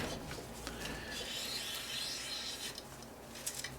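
An all-in-one bore cleaner is pulled through the barrel of an M+M M10X-Z rifle, giving a continuous close rasping, scrubbing friction sound with no talk.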